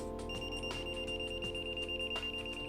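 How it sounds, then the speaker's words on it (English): A handheld RFID retail scanner counting store stock gives off repeated electronic beeps over a steady tonal hum, continuous and fairly close throughout. "it will beep and tell me, keep beeping and beeping until it's finished picking up all the stock in that one area"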